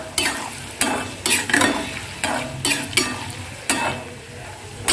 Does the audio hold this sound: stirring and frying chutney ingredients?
yes